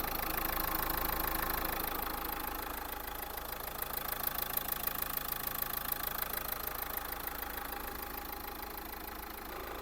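A Dacia Duster's 1.5 dCi diesel engine, with an untouched particulate filter, runs steadily at idle with an even, close clatter and continuous hum and no voices.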